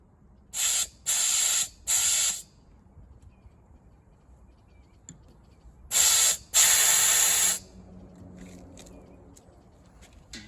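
Compressed air blasts through the evap system lines of a 2004 Cadillac Escalade, giving sharp hissing spurts: three quick bursts, a pause, then two longer blasts and faint clicks in a quiet shop.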